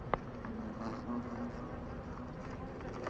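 A hornet trapped inside a bottle trap with a bee buzzes in a steady, low drone that hums on without a break, fairly faint and close, with a soft rustle underneath.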